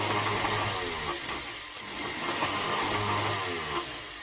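Freed starter motor on an MK3 Ford Cortina spinning, a continuous whirring mechanical drone with a faint rattle and slight wavering in pitch, close and steady, no talk.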